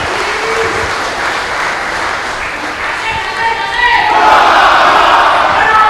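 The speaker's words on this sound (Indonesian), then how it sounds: "Kita beri tepuk tangan." Audience applause at a regional candidate debate in Demak, Central Java, a loud mass of clapping mixed with crowd cheering and voices that swells louder partway through.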